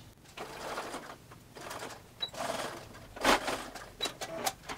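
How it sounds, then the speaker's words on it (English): A sewing machine stitches across a camisole seam and then backstitches, its motor whirring in uneven bursts with short pauses and a louder run near the end. "So just stitch across and then backstitch."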